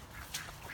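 Backyard ducks give a short, faint quack or two outdoors, a single brief burst over low ambient noise.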